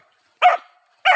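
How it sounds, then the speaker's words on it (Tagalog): Several dogs, around four, bark at close range in two short bursts separated by a pause. "Daming aso pala ito mga guys."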